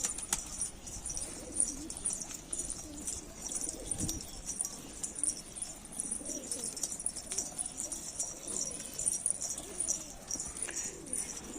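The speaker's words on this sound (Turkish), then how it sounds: "Bu gözde kuşlarımdan biri Bursa" Pigeons coo softly inside a coop, repeated low murmuring calls over a quiet background with a few faint rustles and clinks.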